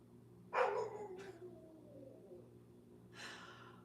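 A single dog barks sharply nearby, followed by a softer second bark and a later fainter yelp, over a quiet room hum during a live fitness class.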